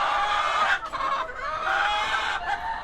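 Pet backyard chickens cluck and murmur continuously at close range in a run of short, overlapping calls, moderately quiet with no speech.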